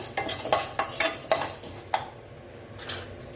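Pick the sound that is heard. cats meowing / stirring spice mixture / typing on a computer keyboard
stirring spice mixture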